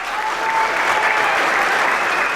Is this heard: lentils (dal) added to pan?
no